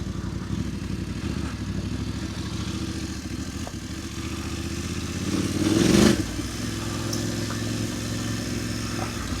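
Voge motorcycle engine hums steadily while riding along a dirt lane, a close continuous drone that swells briefly with a rev and some rattling partway through, with no talk.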